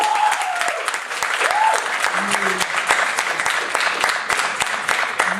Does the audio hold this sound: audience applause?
yes